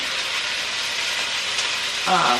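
Sausage and potatoes sauteing in a pot for sausage and potato soup give a steady, close, broadband sizzle and hiss throughout, with a brief clatter near the end.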